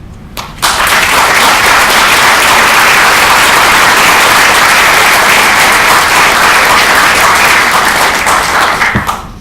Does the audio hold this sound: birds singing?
no